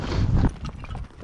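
Horse hooves clip-clop on a dirt trail during a ride, a loud close burst of hoofbeats with a brief whinny-like sound, then a few fainter steps as the sound trails off.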